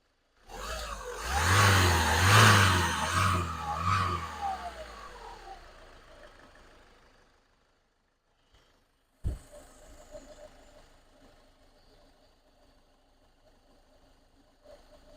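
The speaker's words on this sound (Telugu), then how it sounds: "ఎక్సలేటరీ ఇంజిన్ ఆన్లోనే ఉంది ఎప్పటి నుండో" A 2015 Ford EcoSport Titanium 1.5 diesel engine runs with a loud, low throbbing hum for about seven seconds, then fades out. A sharp thump follows, with faint background noise after it.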